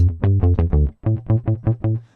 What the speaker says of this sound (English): I have open the Rickenbacker bass, and it sounds like this